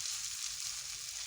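Filling for aloo samosas frying in a pan, a quiet even sizzle with faint stirring texture throughout and no speech.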